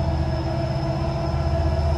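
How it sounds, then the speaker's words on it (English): A train rumbles past steadily in Cresson, Pennsylvania, a dense low roar with faint tonal hums layered on top, constant in loudness throughout. "I've heard this train echo for like 10 minutes."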